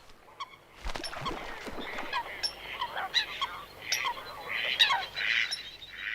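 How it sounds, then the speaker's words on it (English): Coots fighting on open water in wild Germany during the breeding season, giving repeated sharp, honking calls in uneven bursts at moderate distance, with a soft voice murmuring underneath. "The coots, however, are still fighting it out."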